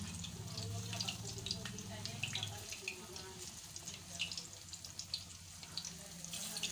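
Fried bananas sizzle and crackle in a pan, a steady bright hiss with scattered pops running through the whole stretch, with a low background murmur in the first few seconds.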